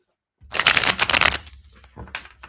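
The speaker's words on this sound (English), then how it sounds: "I'm getting better at shuffling these cards." Thick-cardstock tarot cards with a rose-petal finish are riffled and shuffled in a quick, close, crisp flurry lasting about a second, followed by a few softer taps and slides as the deck settles.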